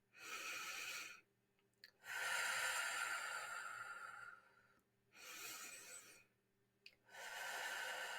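Deep, slow breathing during a guided relaxation session: two long, loud inhale-and-exhale cycles with brief near-silent pauses between them, close to the microphone and without talk.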